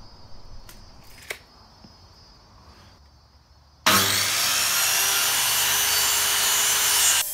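A saw cuts along the edge of a sheet of plywood, starting abruptly after a few seconds of quiet tapping and becoming a loud, continuous, close rasping that carries to the end.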